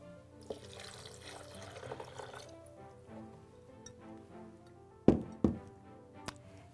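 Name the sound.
pouring a cup of water for vegan cheese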